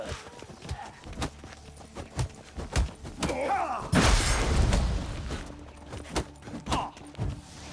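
Horse hooves thud irregularly in The Witcher 3 combat, scattered heavy impacts mixed with a burst of loud crashing noise around the middle, close and punchy.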